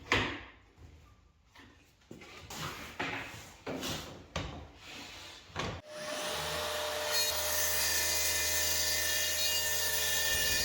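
A circular saw fitted with a polycrystalline blade cuts through a cement board sheet, a steady loud grinding whine that starts partway through after several scraping, handling knocks and shuffles.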